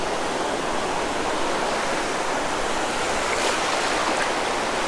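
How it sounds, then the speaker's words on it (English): Small ocean waves wash steadily at a sunny beach, a constant loud broadband surf roar with gentle swells and no pauses, heard close up without voices. "we're just gonna be around here, getting hit by little waves a little bit"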